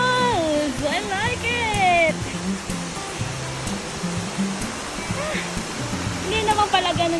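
Pagapiden Falls rushes in a steady, broad roar of falling water, with music and a voice layered over the constant wash at the start and end.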